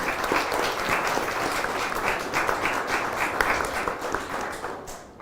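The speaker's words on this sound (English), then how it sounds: "So please give a round of applause to everybody who's on the stage." Audience applause at a panel event in Tallinn, steady sustained clapping from a full room, loud and even throughout before tapering slightly at the end.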